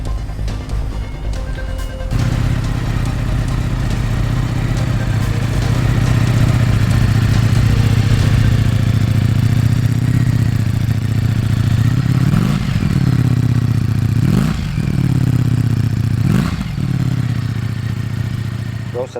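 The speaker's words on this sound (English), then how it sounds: "The exhaust is definitely an improvement on the standard one, the looks and the sound" A Ducati Streetfighter V4S motorcycle fitted with an Akrapovic exhaust starts and runs close by, a loud, rough idle with three sharp revs blipping near the end.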